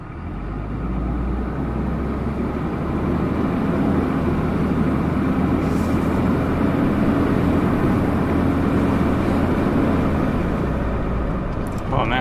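A Cummins 6.7L diesel pickup with a rebuilt 68RFE transmission pulls away from a stop, a steady loud engine drone heard from inside the cab, building smoothly with no talk.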